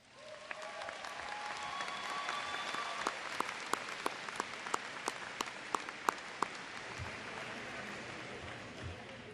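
Graduation audience at Davison High School's 2015 ceremony breaks into broad, sustained applause, with a few sharper nearby claps popping out over the steady crowd clapping before it fades.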